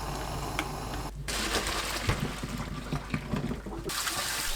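Blanched shepherd's purse is rinsed by hand in cold water, with close splashing, sloshing and wet crunchy handling noises that come in irregular bursts.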